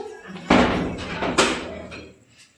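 A house door bangs shut twice in quick succession, each a loud close thud with a short fading tail.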